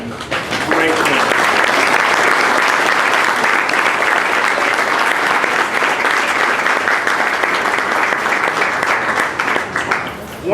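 Audience applause at a varsity softball banquet, sustained loud clapping from a room full of people lasting about ten seconds, with some voices mixed in.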